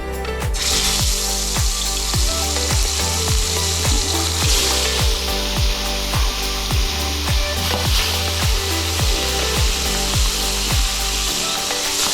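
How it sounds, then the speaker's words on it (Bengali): Pangas fish pieces coated in turmeric and salt fry in hot oil, giving a loud, continuous, close sizzle with repeated scraping strokes and no voices. "এখন মাছগুলো ভেজে নিব"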